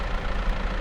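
A tractor engine idles in the Farming Simulator 22 video game, a steady low rumble without change over a brief moment.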